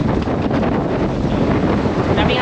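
Strong wind buffets the microphone at a motorcycle campsite, a steady loud roar and rumble with gusts throughout, without a break.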